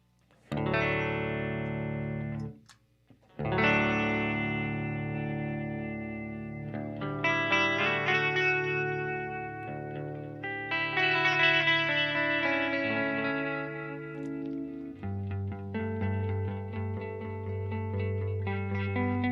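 A Line 6 DL4 MKII pedal runs guitar chords and single notes through its legacy reverb effects, sustained notes swelling with lush shimmering tails, a short gap near the start, then layered ringing tones throughout, no talking.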